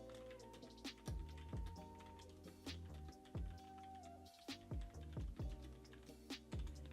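Typing on a computer keyboard while coding a simple calculator in Python, with irregular bursts of clicky keystrokes at close range and no voices.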